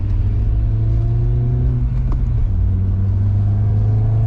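Honda Accord VII car driving and accelerating through a tricky maneuver across busy lanes, a steady loud engine drone with low harmonics that shift in pitch midway, heard from inside the cabin with no talk.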